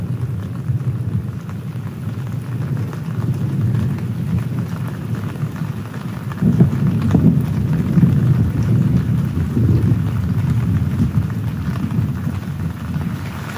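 Thunder rolls low and continuous through a rainstorm, a steady wash of rain over deep rumbling that swells louder midway and keeps going.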